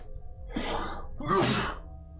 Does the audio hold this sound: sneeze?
yes